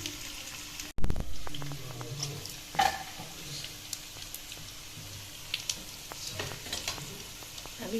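Pork frying without oil in a non-stick pan, a sharp knock followed by steady sizzling and crackling with occasional stirring scrapes and pops, close and moderately loud.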